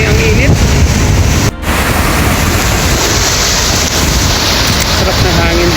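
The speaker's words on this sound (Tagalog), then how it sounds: "Sarap na hangin dito." Strong wind roars steadily across the microphone at a Philippine beach, with surf rumbling underneath and only a brief dip in the gusts.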